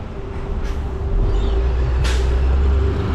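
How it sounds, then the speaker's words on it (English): On Rua Fernão Mendes Pinto in Taipa, Macau, a big bus lets out two short hissing bursts from its air brake over a steady low engine rumble. Ambient street noise runs throughout. "Giant bus."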